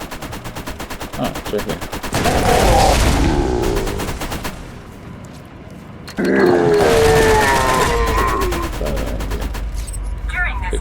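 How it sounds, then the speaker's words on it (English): Turret gunfire in the Borderlands video game, loud rapid bursts of automatic fire in two long stretches with a quieter gap between, a voice speaking briefly over it. "This is a turret."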